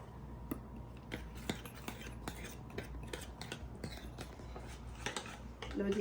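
A metal spoon stirs a spoonful of black pepper into a home remedy mixture for cold and cough, giving repeated sharp clinks and scrapes against the container in an irregular rhythm, close and fairly clear.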